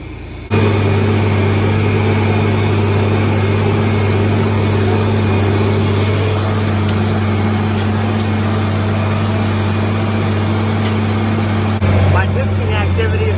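A loud, steady diesel engine of a 120-horsepower John Deere 4320 tractor pulling a disk drones under heavy load with a deep constant hum, continuing without a break.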